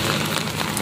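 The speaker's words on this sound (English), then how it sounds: "It's a rainy morning." Steady rain falls on a rainy morning, a dense, loud, continuous hiss and patter of drops hitting surfaces with no pauses.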